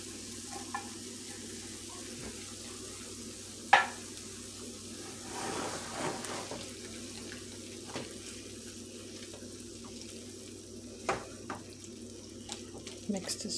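Rajas con queso with chicken is stirred in a pan, giving a faint, soft sizzle with light scraping and a sharp utensil clink near the start, quiet and without talk.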